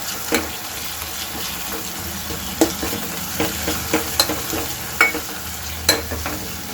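Green chilies and garlic stir-fry in a pan, a steady low sizzle punctuated by sharp, irregular spatula scrapes and taps against the metal, close up and without speech.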